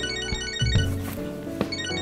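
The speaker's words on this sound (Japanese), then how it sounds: "電話か。" Phone ringing in Catherine Full Body, a short electronic ringtone with a few tonal pulses over quiet game music.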